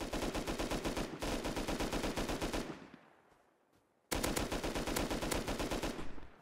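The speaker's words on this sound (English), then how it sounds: "Who was he shooting at though?" Heavy automatic gunfire from a Rust video game battle, loud rapid bursts of shots for about three seconds, a short lull, then another sustained burst of close fire with no talking.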